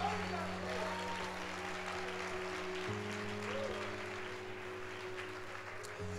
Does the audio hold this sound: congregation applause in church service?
yes